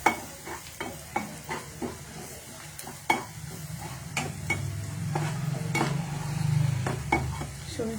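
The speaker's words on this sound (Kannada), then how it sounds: "ಮತ್ತು ಇದು ಧನಿಯಾ ಪುಡಿ, ಇದು ಸ್ವಲ್ಪ ಫ್ರೈ ಆಗಬೇಕು" Coriander powder fries in butter in a pan with ginger, garlic and turmeric, a soft sizzle beneath repeated sharp clinks and scrapes of a spoon against the pan, the sizzle rising louder in the second half.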